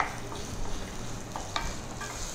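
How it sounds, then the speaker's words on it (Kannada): Onion, coriander and curry leaves roasting in a pan on a cooking show, giving a steady close sizzle broken by a few scraping stirs, with no talk over it. "ನೀರುಳ್ಳಿ, ಕೊತ್ತಂಬರಿ ಮತ್ತೆ ಕರಿಬೇವಿನ ಸೊಪ್ಪು ಮೂರನ್ನು ರೋಸ್ಟ್ ಮಾಡ್ಕೊಳ್ಳೋದು"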